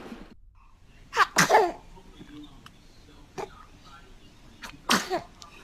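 A baby lets out several small sneezes, a quick pair early on and another later, sharp and close, with a soft voice briefly audible between them.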